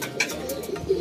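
A healthy racing pigeon coos in a few soft, low throaty notes close by, while faint chirps and background noise fill the space between them.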